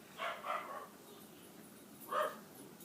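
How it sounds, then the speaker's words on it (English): Dog barking nearby in a home setting: a quick pair of yapping barks, a pause, then one more bark, moderately loud against a quiet room with no talk. "I swear that dog needs to shut up."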